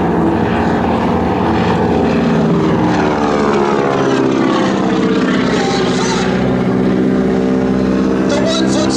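Propeller aircraft engine roaring loud and close through a wing-walking slow roll at an air show flying circus, a steady droning whine filling the whole stretch, with an announcer's voice over it.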